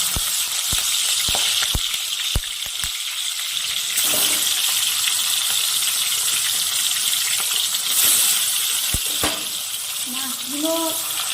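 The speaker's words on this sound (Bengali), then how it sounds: "তেলটা গরম হয়ে গেছে মাছগুলো এখন ভেজে" Bhetki fish frying in hot mustard oil in a kadai: a dense, loud sizzle and crackle fills the scene, broken by a few sharp clicks, with brief faint voice traces near the end.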